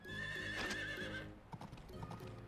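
Horse in the video game Story of Seasons: Pioneers of Olive Town giving a loud, shaky whinny that fades out, followed by a few light clip-clop hoofsteps over quiet background music.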